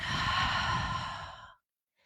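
A single long, audible exhale during a yoga flow class, close and clear, fading into silence.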